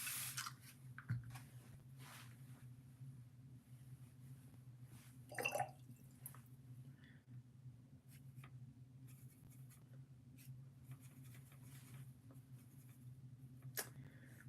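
A brush lays water onto a watercolor tulip painting in soft, faint wet strokes with light dabs and scrapes on paper, one slightly louder swish midway, over a quiet steady room hum and no talking.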